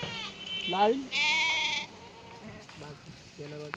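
Goats bleating on a rural farm where one nanny goat has given birth to three kids, with several wavering bleats, one long and loud, mixed with people talking nearby.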